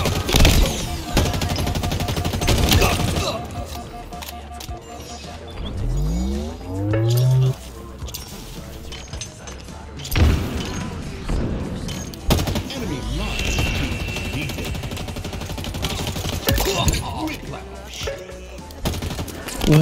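Gunfire in Halo Infinite multiplayer, with bursts of automatic fire and bangs mixed with in-game effects and a rising whine, continuing through most of the stretch under a player's occasional talk.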